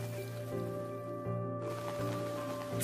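Rain falling in a video game, a steady soft hiss of drops on surfaces that continues throughout, faint and even, with a low background hum and no voices.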